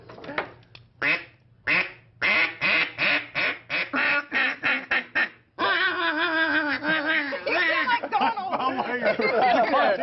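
A man imitates duck quacks with his voice as a duck call: a run of short, rhythmic nasal quacks, then a longer, continuous raspy chatter of quacking, loud and close.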